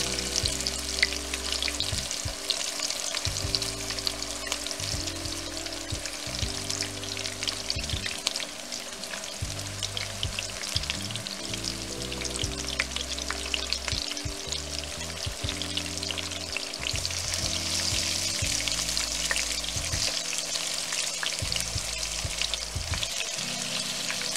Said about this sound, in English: now it's time to add the shrimp. Place the shrimp in.